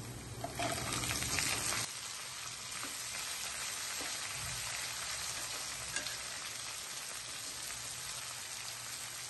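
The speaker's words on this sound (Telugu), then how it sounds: "ఆ శనగలన్నీ తాలింపులో వేసేసుకోవాలి" Chickpeas frying in a hot tempering of oil with chillies and curry leaves, a steady crackling sizzle throughout that starts louder and then settles to an even hiss.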